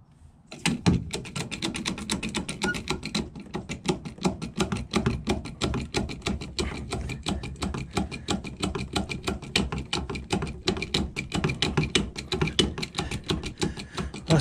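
Rapid, continuous metallic clanking and rattling of a chain being worked while a small cabin is moved on blocks, dense and steady for the whole stretch at moderate distance.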